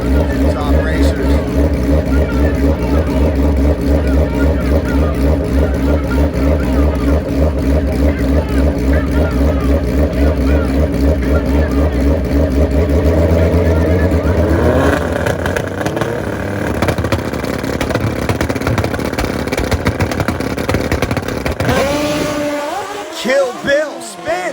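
Two drag-style race cars of about 800 horsepower tearing down a very slippery track, a loud sustained roar of engines with tire noise that swells and then cuts off sharply near the end.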